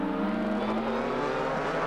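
Several single-seater race cars from the 1995 BRSCC Prosport 3000 Championship lap a circuit in a practice session, engines droning loudly and steadily with the whine of close, continuous running and no talk over it.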